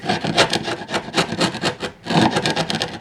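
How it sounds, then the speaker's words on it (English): Chisel scraping out wood on a model railway control panel, a close, rough rhythmic rasping in quick repeated strokes with a brief pause partway through. "just get a chisel and scrape it all out"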